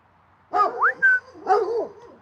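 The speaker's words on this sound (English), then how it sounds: "Oh, they were barking." Dogs, one named Apollo, give three quick close vocal bursts in about a second and a half: short yelping barks with whiny rising tones, loud against a quiet room.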